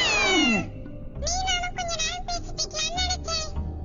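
A kitten meows repeatedly in a series of short, high, wavering cries. A louder, longer cry comes first, then a run of quick meows follows close up.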